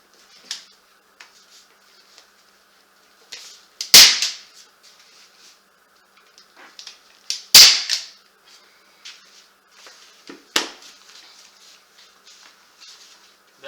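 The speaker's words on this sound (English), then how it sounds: "I'm going just to fix these corners and staple them on" A staple gun fires staples through upholstery fabric into the underside of a chair cushion, giving a few sharp, loud, isolated snaps at irregular intervals with quieter handling rustles between them.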